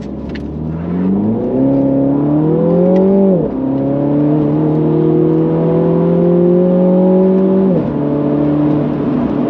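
A Mini John Cooper Works GP3 climbs the Turbie road, its engine note rising steadily through the gears with brief dips at shifts, loud and close from inside the cabin, no voices.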